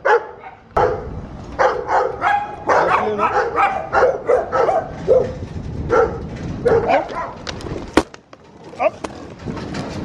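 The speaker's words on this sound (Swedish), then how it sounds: "Hundar överallt." Several dogs bark repeatedly and loudly close by in an outdoor setting in Mexico, in bursts over about ten seconds, with a few higher yips and people talking in between.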